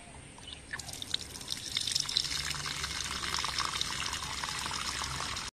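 Mutton is washed under a running tap, with a continuous close stream of splashing, trickling water and light wet handling sounds.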